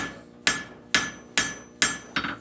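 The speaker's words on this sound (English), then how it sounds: "Making sure not to leave any hammer marks in the process, so it's completely clean." A blacksmith hammers a forged iron heart: five sharp, ringing metal strikes land about half a second apart, the last one doubled. The strikes are loud and close, with no talking.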